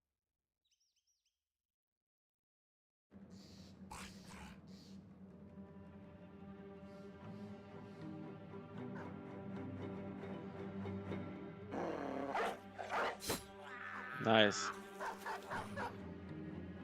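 Dog barking and whimpering in the video game Battle Brothers, mixed into steady game sounds and music that grow busier toward the end, with a brief spoken word.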